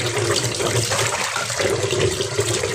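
Steady running water splashes continuously while raw fish rubbed with salt and turmeric is washed, a close, full gushing stream with no pauses.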